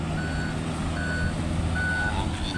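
A truck hauling sand in Porac, Pampanga, in the rain gives three evenly spaced reversing beeps over a loud, steady diesel engine rumble.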